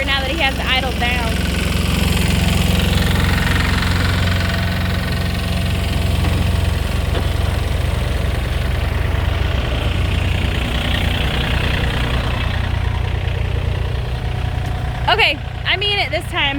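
A camp generator engine idling, a steady low droning hum that runs throughout at moderate loudness, with someone talking over it and a brief bird-like chirp near the end.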